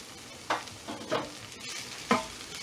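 Mushroom, onion and almond mixture being stirred in a pan, with three distinct scraping strokes spaced about a second apart over a soft background, no talking.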